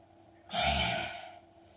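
One deep, audible inhale during a guided breathing exercise: a single long, breathy intake that swells quickly, holds and then fades, heard alone and up close.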